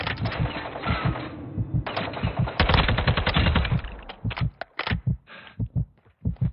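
Gunfire in a Call of Duty Warzone match, heard as loud, close bursts of rapid shots in quick succession that break into separate spaced cracks toward the end.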